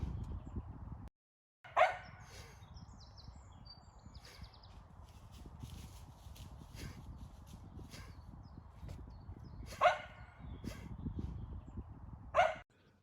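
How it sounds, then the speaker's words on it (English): A dog barks three times, in short separate bursts spread well apart, moderately distant over a constant indoor background hum, with no talking. "My dog is going to bark though, so be ready."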